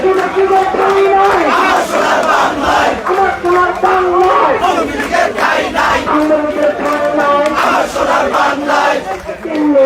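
A large protest crowd at Dhaka University chants slogans in loud, rhythmic unison, steady and close throughout with many voices overlapping.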